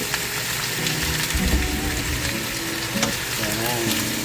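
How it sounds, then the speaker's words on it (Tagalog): Shrimp frying in a heated pan for buttered shrimp, a steady close sizzle and crackle running throughout with a few faint clinks and scrapes, no talking. "Tapos yung ating shrimp ilagay na natin hanggang sa mag-orange siya."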